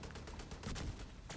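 Light machine gun fire in the video game Division 2, heard as a dense, continuous stream of rapid shots that stays loud throughout the short burst, with no talking.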